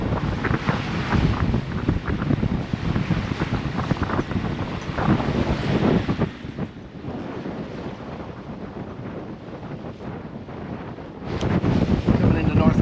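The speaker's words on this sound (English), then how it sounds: "Sailing, doing it under sail." A sailboat under sail off the British Virgin Islands near Necker Island, with strong wind buffeting the microphone and steady wave and hull-water wash throughout; the roar eases midway and then returns.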